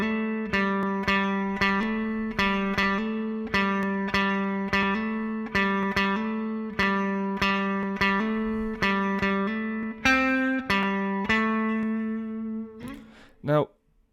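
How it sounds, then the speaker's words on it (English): Funky electric guitar line with effects, played without staccato so each chord rings into the next in a steady groove, ending with a brief sliding flourish; clear and close, no voices. "Now, if I'd done that without staccato, it would sound like this."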